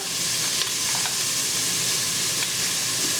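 Vegetables for marinara sizzling in a pan as they are stirred, seasoned with salt and black pepper: a dense, steady, close frying hiss with faint scraping, no voices.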